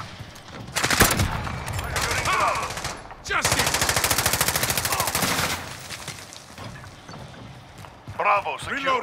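Modern Warfare gunfire: fast automatic bursts crackle loudly, the longest a rapid rattling string of several seconds, mixed with game voices and other effects.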